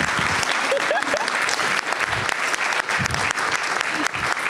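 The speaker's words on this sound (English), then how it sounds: "everybody give yourself a round of applause" A sustained round of audience applause at a summit gathering, dense and steady throughout, with a few faint voices mixed into the clapping.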